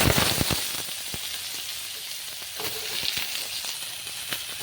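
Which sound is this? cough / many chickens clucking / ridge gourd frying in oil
ridge gourd frying in oil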